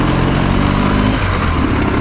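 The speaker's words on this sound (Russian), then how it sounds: "Ну, едет мотоцикл неплохо." A motorcycle on a family ride in the Urals, its engine droning loud and close in a steady, rough stream with a slight shift partway through.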